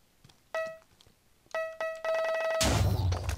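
Repeated electronic beeps from a sticky grenade in Minecraft ring out in short pulses, quickening into a rapid stream before a loud burst of noise.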